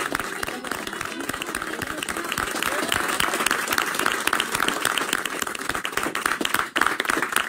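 Studio audience claps as a live Paris regional news show signs off for the last time, sustained applause with distinct individual claps, moderately loud and continuous, rising slightly toward the end with voices faintly beneath.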